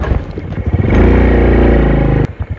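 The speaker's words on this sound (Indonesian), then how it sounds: "Ini saya, motor saya ini nalpotnya putus kawan." A motorcycle with a broken exhaust pipe runs on a dirt village road, its engine a loud, rough, rattling roar that swells for about a second and a half before dropping away.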